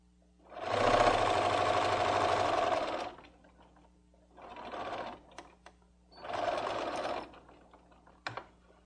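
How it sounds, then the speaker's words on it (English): A sewing machine stitches shoulder seams on knit fabric in three bursts: a long steady whir of about two and a half seconds, then two shorter runs, each followed by a quiet pause and a small click. "I'm going to sew the 2 shoulder seams all in one continuous line"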